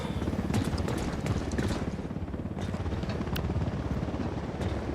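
Helicopter in the Ghost Recon Wildlands video game: a loud, continuous rotor chop with steady rapid thumping and engine whine, filling the whole stretch without pause.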